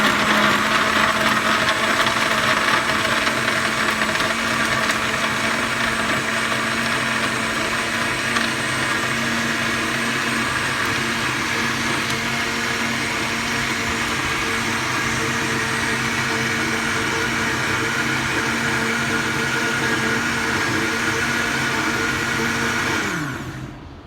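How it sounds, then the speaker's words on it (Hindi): A blender running on pineapple and coconut for a piña colada, a steady loud motor whir with a buzzing hum that continues unchanged for over twenty seconds and then cuts off at the end, with no voices. "अब हम इसको ब्लेंड करेंगे।"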